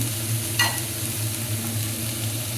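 Beans, capsicum, cabbage and carrot stir-fry with onions in ghee, giving a soft, continuous sizzle with a brief scrape of stirring near the start and no talking.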